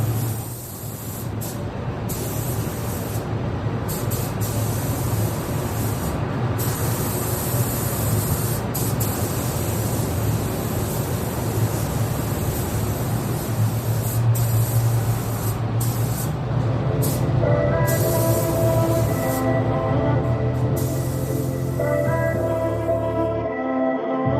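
A spray gun painting a 1970 Hemi Road Runner hisses almost continuously, a loud, steady rush of air with short pauses between passes, and a low hum beneath it.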